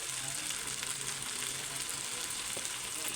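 Mutton sizzles and fries steadily in a pan with coriander powder, red chilli powder and salt, a dense continuous crackle with no voices.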